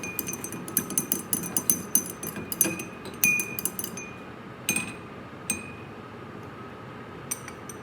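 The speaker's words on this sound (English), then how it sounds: "In the Kool-Aid, I will be using a stirring rod for this" A stirring rod clinks against a glass of Kool-Aid during a classroom lab demonstration, a series of quick sharp taps in irregular rhythm that thin out toward the end.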